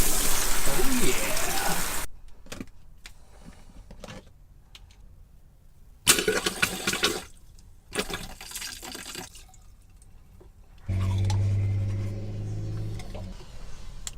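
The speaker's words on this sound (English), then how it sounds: "let's take a shower. Turn the water on." Water sprays from an RV shower in a steady hiss, stops, then bursts on again briefly with sputtering, with quiet movement in the pauses and a humming water pump toward the end.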